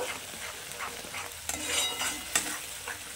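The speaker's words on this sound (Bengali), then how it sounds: "তো এবার মশলাটাকে আমি খুব ভালো করে কষিয়ে নেবো একদম তেল বেরোনো পর্যন্ত।" Spice paste with turmeric and salt stirred and fried in oil in a pan for a South Indian style fish curry, giving a steady close sizzle with scraping stir strokes and a couple of louder clacks.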